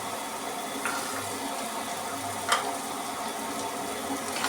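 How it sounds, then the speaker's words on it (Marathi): Mixed vegetables with green peas and carrots sizzle steadily in hot oil in a pan, a continuous crackling fry with a few soft clinks of stirring. "छान तेलावरती भाज्या परतल्या की त्या मऊ होतात"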